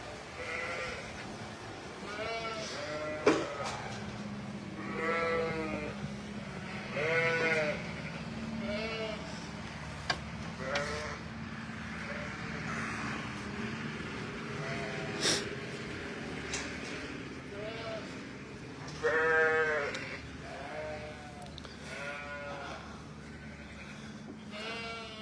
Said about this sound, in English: with the sheep in the background